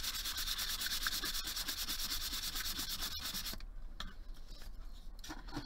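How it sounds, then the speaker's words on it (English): Sandpaper rubbed back and forth over the rough back of a textured metal component, a steady close scratching rasp that continues for several seconds before tapering into lighter, intermittent strokes. "it's a good idea to just use that on the backside to kind of smooth everything down."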